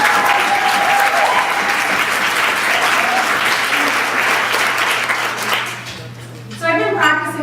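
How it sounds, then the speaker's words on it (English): Audience applause for Sharon, a speaker at an event: steady, dense clapping from a crowd that holds for about six seconds and then fades. A voice starts speaking as it dies away. "I want us to all give Sharon another round of applause"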